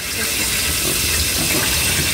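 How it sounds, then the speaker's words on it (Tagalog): Water is poured into a cooking pot while a home cook prepares fried tilapia and paksiw, a steady, close rushing splash lasting the whole moment with no talk. "At lagyan po natin ng tubig mga idol."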